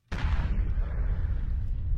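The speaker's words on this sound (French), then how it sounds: "une explosion en contrebas, à environ 500 mètres du camp" An explosion about 500 metres below a military camp bursts in suddenly out of silence, then rolls on as a loud, deep, sustained rumble with no voices.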